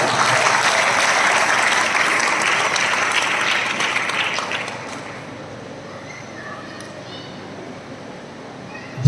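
Audience applause during a religious sermon, a dense burst of clapping that fades after about four seconds into a quieter room with scattered claps.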